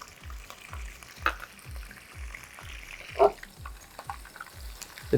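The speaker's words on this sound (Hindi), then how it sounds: "इसको अच्छी तरह से हम लहसुन को भून लेंगे हल्का सा" Garlic sizzles in hot oil in a pan, under a steady soft frying hiss broken by regular scraping stirs and a few sharper clinks of the utensil.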